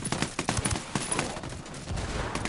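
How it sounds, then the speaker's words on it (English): Rapid gunfire from an in-game firefight in Ghost Recon Wildlands, with dense automatic bursts and overlapping shots crackling steadily throughout at close range. "I'm opening fire on these shitheads."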